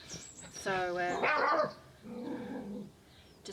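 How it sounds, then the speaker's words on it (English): An agitated dog, worked up by another dog wandering through a village, lets out a burst of loud, excited barking and growling, followed by a quieter stretch of softer vocal sound. "just excuse my dog. He's going nuts because his nemesis is wandering around village."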